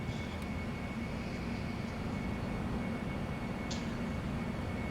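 Steady, dense roar of a PMDG 747-400 climbing out after takeoff from Luxembourg in a flight simulator, lightly loaded with cargo, holding at an even level throughout with a faint high whine above the broad engine rumble.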